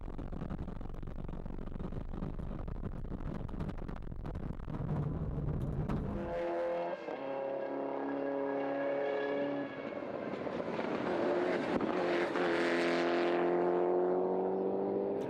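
A rally car at the 2007 Daybreaker rally, held on a motor racing circuit, sweeps through a fast left-hand turn. Its engine note rises in pitch and swells loud and close as it passes, with no talk.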